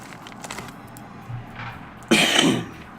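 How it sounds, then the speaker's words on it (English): In the video game Shadowrun Returns: Dragonfall, after a few soft rustles, a single harsh cough bursts out close by, loud and brief. "Pardon me, I still have a bit of a cough."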